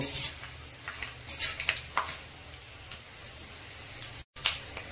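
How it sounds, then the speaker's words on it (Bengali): Whole spices frying in hot oil for dhaba-style mutton, a soft steady sizzle with scattered scrapes and clinks of a spoon against the pan, alone and close. "ফোড়নটা ভালো মতো ভাজা হয়ে গেছে"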